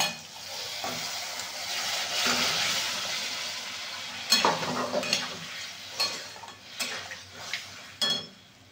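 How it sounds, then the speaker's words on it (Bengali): Hot spice tempering is poured into a pot of ghugni, a pea curry, with a hissing sizzle followed by several clattering spoon and pot knocks, close up and at moderate volume, with no talking. "এই যে এবারে ঘুগনিতে ঢেলে দেবো ফোড়নটা।"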